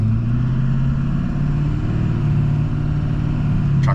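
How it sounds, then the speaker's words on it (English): A hot rod idles and runs with a steady low engine drone from inside the car, close and constant with no clear gear changes, and a brief click near the end. "So it shifts nice and crisp through all 4 gears now without an issue."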